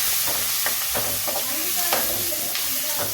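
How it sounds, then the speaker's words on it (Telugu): Onions fry in a pan with cashews, curry leaves and turmeric, giving a steady sizzling hiss broken by several scraping stirs and soft clinks, close and fairly loud, with no clear talking. "మంచిగా వేయించుకోవాలన్నమాట ఈ ఉల్లిగడ్డ మంచిగా వేగాలి"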